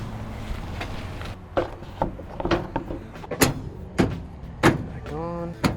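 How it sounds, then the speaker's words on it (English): Sharp plastic clicks and thumps come in an irregular series as a door panel is pressed into place on a Chevrolet C10 pickup, with a brief squeaky creak near the end. "Let's get this door panel back on."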